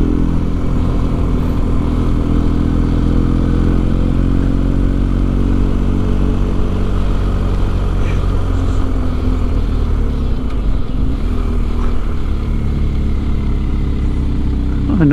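Motorcycle engines drone steadily up the Col du Telegraphe mountain pass in the French Alps, a loud, close, continuous low rumble with faint clatter and shifts in tone as the riders climb.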